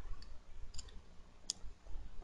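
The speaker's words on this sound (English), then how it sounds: "And you're going to click Restart." A few faint computer mouse clicks come while working in the Eclipse software: two or three light, crisp ticks spaced apart over a low, steady room hum, with no voice.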